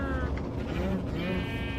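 Sheep in a survival video game bleat twice in quick succession, close and clear over a constant low background hum.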